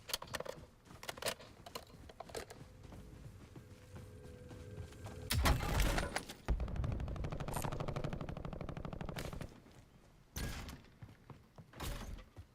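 Bursts of automatic gunfire from Call of Duty Warzone in Verdansk, several loud rapid volleys with sharp single shots and thuds between, close and dominant over faint background noise.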